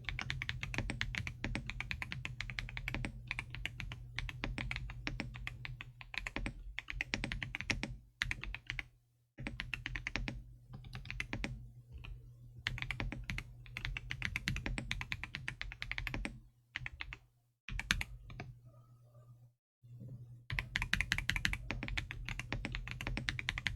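Typing on a computer keyboard, rapid clicky keystrokes in bursts with brief pauses, close and crisp over a low steady hum.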